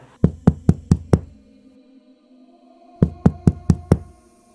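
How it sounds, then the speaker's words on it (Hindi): Loud knocking on a door comes in two quick bursts of five sharp, evenly spaced raps, separated by about two seconds of near silence, close and forceful with no voices. "बहुत ज़ोर ज़ोर से नॉक करने लगता है"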